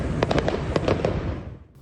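Gunfire between police and drug traffickers in the alleys of Ladeira dos Tabajaras, between Copacabana and Botafogo in Rio de Janeiro, comes as a loud, rapid string of sharp cracks that echo and fade.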